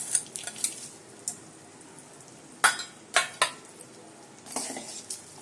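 A spoon scrapes and clinks against a pan while stirring in chili powder, salt and jaggery, in several sharp bursts of irregular strokes with quiet gaps between, close and clear, no voices.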